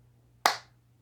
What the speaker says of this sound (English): Why did I just clap?